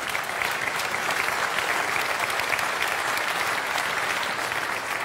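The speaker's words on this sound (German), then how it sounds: "Das war der Applaus für den Sohn" Sustained, even applause from an audience at the Kiel Opera event honoring the son, general director Daniel, a continuous wash of many hands clapping at moderate distance without letting up.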